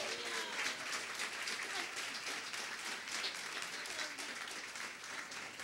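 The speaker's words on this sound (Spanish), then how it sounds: "Dale un fuerte aplauso al Señor por eso" Church congregation applauding in a steady, full wash of clapping that fills the room throughout, with no break.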